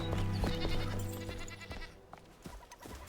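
A goat bleats several times in the survival game Enshrouded, close and fairly loud over ambient game sound that fades partway through.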